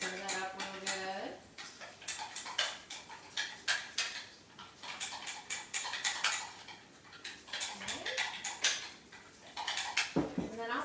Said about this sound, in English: into the dressing of this potato salad. I'm just going to stir that up real good.